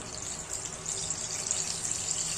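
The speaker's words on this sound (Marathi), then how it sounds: "बघा, आता मी वडा सोडत आहे." Urad dal vada batter dropped by a wet hand into hot frying oil gives a steady, close sizzle and bubbling hiss that carries evenly throughout with no voices.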